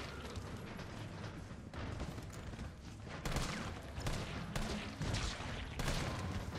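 Rapid gunfire from assault rifle and handgun in Resident Evil 3 Remake, dense bursts of shots with mechanical clacks and creaks, loud and continuous with sharper volleys toward the end.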